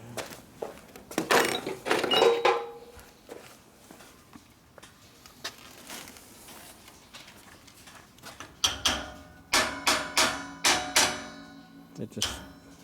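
A series of sharp metallic impacts from hammering on metal rings out in a rapid burst near the end, preceded by clanks, shuffling and scraping of tools, while building a 650cc Harley Sportster single-cylinder engine.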